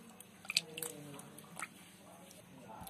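Raw mango peels and pits being mashed by hand in water, with faint wet squishing and a few soft clicks close by, quiet and intermittent.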